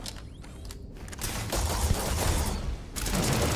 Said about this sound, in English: This is not a good robot gun.